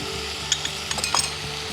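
Hoi chili base goes into a hot pan and sizzles briefly. The soft frying hiss comes with a few light clinks and scrapes of a utensil against the pan, close and without talk.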